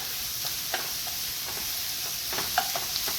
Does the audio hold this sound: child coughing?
no